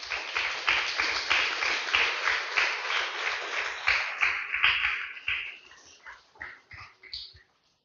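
Congregation clapping in church, a rhythmic rapid patter of hands that thins into scattered claps and then stops.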